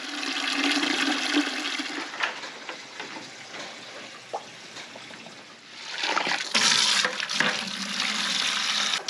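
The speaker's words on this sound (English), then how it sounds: "We'll turn that on and that'll send the water Down here to me." Water rushing through a line fed from a hose reel used for bathing horses, a loud continuous hiss and gush with splashing, surging stronger near the end, nearby and without talk.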